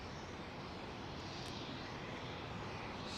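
Royal Brunei Airbus A350 at London Heathrow with its auxiliary power unit running, a steady broadband roar and whine held at constant level from a distance.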